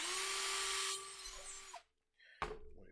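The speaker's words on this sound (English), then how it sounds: "drill that through" A power drill boring through a part during assembly of a Quake Shaker, one loud whining run that stops abruptly, then a brief clatter and a softer restart.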